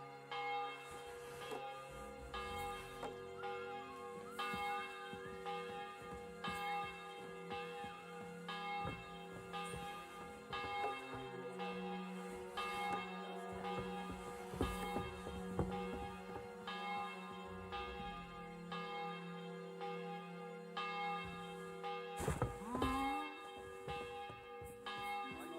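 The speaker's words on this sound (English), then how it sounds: "The bell's ringing for Hans the 5th time." A church bell tolling in the medieval game Kingdom Come: Deliverance II, slow regular strikes with long ringing overtones that hum between hits, heard steadily from a distance for a long stretch.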